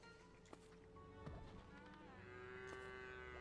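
Cows moo in the survival video game Craftopia, a long, drawn-out low bellow rising near the end over a steady game background, with small footstep-like clicks.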